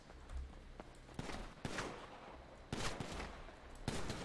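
Gunfire in the video game GTA, several sharp shots and bursts spaced irregularly across a steady background, fairly close and without speech.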